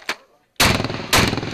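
Two loud, close gunshots at an outdoor shooting range crack out about half a second apart, each followed by a short ringing decay, after a faint earlier pop.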